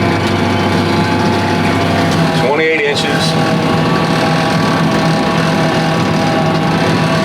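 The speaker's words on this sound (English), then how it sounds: "Front end of my tractor's about to drop." Tractor engine running steadily while laying drainage tile in a field, dropping into a low ditch spot; a loud, constant engine drone fills the clip, with someone speaking briefly over it.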